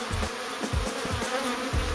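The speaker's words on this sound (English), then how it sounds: "The most common species in Sydney, and even the world, is the European honeybee." European honeybees in Sydney, Australia, make a steady, close, continuous buzz with no other sounds.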